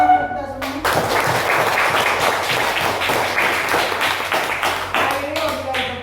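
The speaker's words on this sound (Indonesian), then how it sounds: "Tepuk tangan kita semua." A class applauds at the end of an on-the-job training session, with a loud, dense round of many hands clapping for several seconds, and a voice speaking just before it begins and again as it fades.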